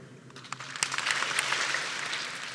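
Football camp campers clapping together in unison, a burst of claps rising into a sustained, fairly loud wash of applause with no clear separate triple pattern.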